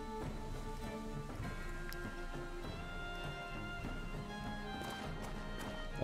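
Galloping horse hooves in the Wartales video game, a rapid drumming clip-clop under a dense, steady bed of game music and ambience, moderately loud with no voices.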